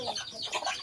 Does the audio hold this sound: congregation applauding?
no